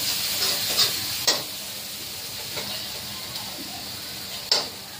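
Garlic and green chilli frying in a pan for a dill leaf dish: a bright, steady high sizzle close by, broken by a few sharp clinks of a spoon against the pan.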